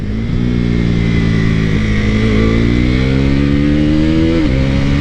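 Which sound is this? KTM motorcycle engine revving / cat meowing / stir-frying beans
KTM motorcycle engine revving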